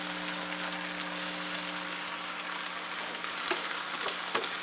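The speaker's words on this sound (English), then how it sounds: "Look at that sizzling already." Turkey bacon sizzling in a frying pan, a dense, even crackling hiss up close, with a few pops and a light scrape of the strips being moved near the end.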